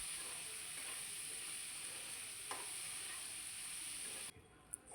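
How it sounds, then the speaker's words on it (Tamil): Pasta stirred in a pan over a high flame gives a steady, faint sizzle and hiss with a few soft scrapes, fading sharply near the end. "இப்போ நம்ம வடிகட்டி வச்சுருந்த பாஸ்தாவை இதில் சேர்த்துட்டு ஒரு 5 மினிட்ஸ் ஹை ஃப்ளேமில் நல்லா"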